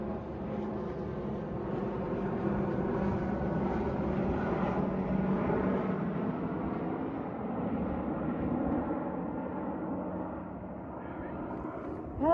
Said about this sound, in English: It's like a bad time for that plane to pass.